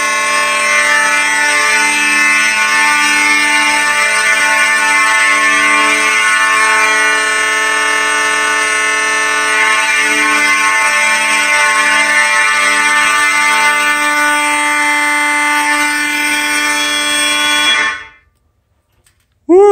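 Space Age and Simplex 29L3 fire alarms blare together during a fire alarm system test in a room with a go-kart project, a loud continuous harmonic horn tone held for about eighteen seconds before cutting off abruptly.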